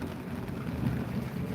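Steady rain hiss with a low rumble swelling underneath, like distant thunder in a monsoon storm; no voices.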